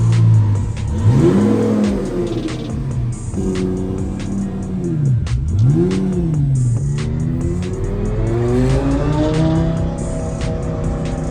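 A twin-turbo Lamborghini Gallardo engine revs hard, rising and falling in pitch through several loud bursts, with a deep, throaty exhaust note close by.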